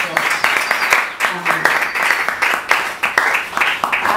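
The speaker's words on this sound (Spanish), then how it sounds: "Un aplauso para estas personas." During a church discipleship workshop on forgiveness and healing, the congregation gives a loud round of applause. The claps come as sharp, close, rhythmic bursts that swell and ebb over several seconds, with faint voices mixed in.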